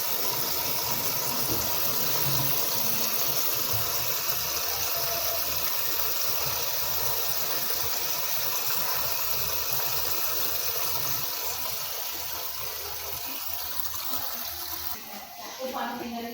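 Water pours steadily into a single tub washing machine, a continuous hissing rush that fades slightly near the end.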